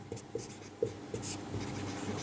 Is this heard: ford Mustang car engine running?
no